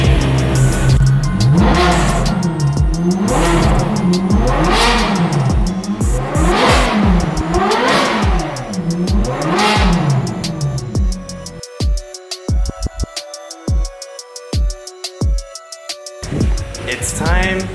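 A Ferrari 430 Scuderia fitted with an Agency Power titanium exhaust revs loudly again and again in rapid rising and falling sweeps, then switches to sharp, choppy bursts of revving with gaps between them toward the end.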